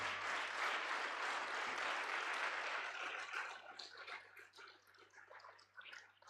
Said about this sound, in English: Can you please stand up and give him a round of applause in absentia?